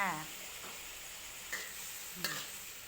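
Eggplant stir-frying in a pan, a faint continuous sizzle with a couple of sharp utensil scrapes and knocks as it is stirred, and a short voice at the start.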